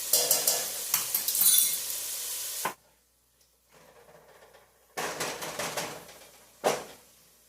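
Garlic, about a tablespoon, hits a hot pan for a basic tomato sauce, giving loud bright sizzling bursts that break off into a quiet lull and then return in a second strong burst with a sharp clatter.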